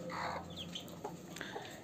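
Columbian Light Brahma chickens on a farm, a large, healthy, active pair, giving a few soft clucks and short calls close by, with no talking.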